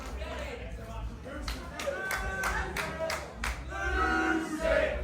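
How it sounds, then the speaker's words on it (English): Wrestling crowd roaring and clapping at a live event, rising swells of cheers and rhythmic claps under a commentator's voice. "the crowd come alive straight away"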